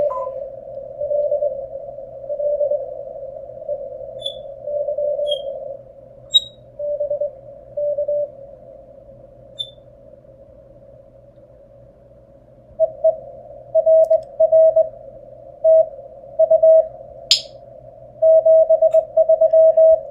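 Faint Morse code tones on an amateur radio during park activation hunting, with scattered keyed beeps and longer pauses, then quicker bursts of dits toward the end.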